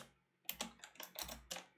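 Keys clatter on a computer keyboard during coding, quick close irregular bursts of clicks with brief pauses between them.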